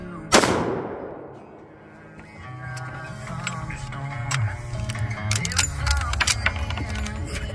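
A single 30-30 rifle shot cracks out loudly near the start and quickly decays, followed by quieter outdoor background with faint rustles and ticks.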